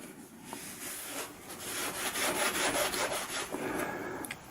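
A damp cloth rubs across the varnished surface of a painting, a steady soft scuffing that swells and fades in close, continuous strokes with no voices.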